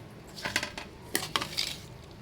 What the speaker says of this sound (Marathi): चला आता ही मॅश करून घ्यायचं आपल्याला